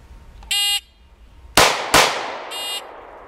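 Handgun shots on a shield shooting drill range: a shot timer beep, then two sharp, loud cracks about a third of a second apart with ringing decay, followed by another timer beep.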